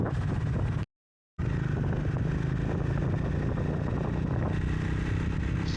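A motorcycle engine runs steadily and close by during a ride to Sandakphu, a continuous low rumble broken by one brief silent gap near the start.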